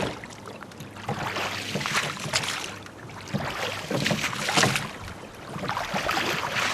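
A small wooden rowboat with long 7-foot-4-inch oars rowed on open water, giving rhythmic swishing strokes and splashes under steady wind noise, close to the microphone.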